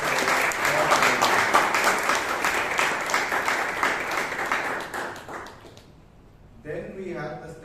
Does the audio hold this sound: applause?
yes